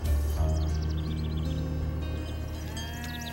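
Cartoon cows in a countryside picnic scene give a steady, low drawn-out moo under a bed of music and birdlike chirps, continuous and fairly loud throughout.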